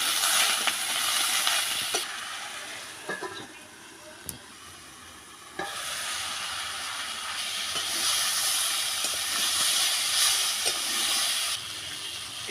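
Spices, salt, turmeric and vegetables fry in a pan over a wood fire, a loud steady sizzle and hiss with occasional stirring clinks, fading briefly and then swelling again.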